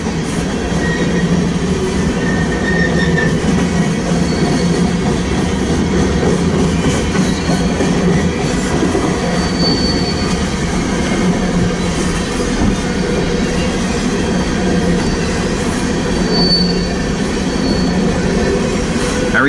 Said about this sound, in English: well, there's trains moving.